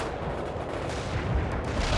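Rockets and gunfire in the World in Conflict Soviet assault battle near Eatonville roar as a dense, continuous barrage of overlapping blasts and shots, loud and unbroken throughout with no speech.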